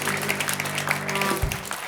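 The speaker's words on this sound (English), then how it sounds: "Yeah, you can applaud for that." Audience applause at a virtual Top Employers certification celebration for 2023, a steady wash of clapping that fills the whole moment with no voices on top.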